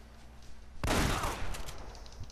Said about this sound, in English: I'm getting shotgunned at